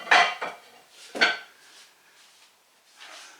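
A dish set aside into the washing up clatters with several sharp crockery and cutlery clinks close by, followed by fainter knocks as it settles, with no talk.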